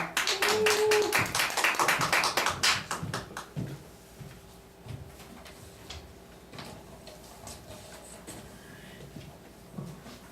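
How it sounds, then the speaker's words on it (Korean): A church congregation claps to welcome the pastor: a loud, fast burst of many hands for about three seconds, then tapering into a few scattered, quieter claps. "우리 박수로 모시겠습니다."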